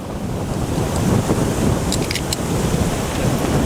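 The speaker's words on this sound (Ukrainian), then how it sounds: "Вітер сильний." Strong, steady wind roars against the microphone while carp fishing, over a wash of surf-like noise, continuous and loud throughout.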